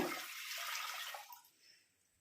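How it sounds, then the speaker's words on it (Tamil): Water gushes steadily into a heavy pot for over a second, then tapers off to a faint trickle. "ஒரு லிட்டர் தண்ணி ஊற்றுறேங்க"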